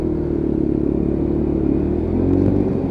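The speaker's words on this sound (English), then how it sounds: "you would never obviously beat the sound of a petrol engine" Lexmoto LXR petrol motorcycle engine revving while riding, a steady loud buzzing drone with throttle swells and road rumble underneath, close and continuous with no voices.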